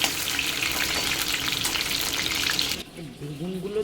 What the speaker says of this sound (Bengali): এই জন্য আলু ভাজা বসিয়েছি।